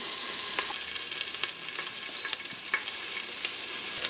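Onions fry in a pan while fish is braised, giving a steady, close, loud sizzle and crackle with scattered pops throughout.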